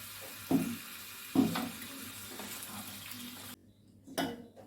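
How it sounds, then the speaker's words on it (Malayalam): About one and a half glasses of water go into a pan of chicken vindaloo. A steady watery splash and sizzle run under a few sharp knocks, with a brief drop in level before the sound picks up again. "ആവശ്യത്തിനുള്ള വെള്ളം ഒഴിക്കാം"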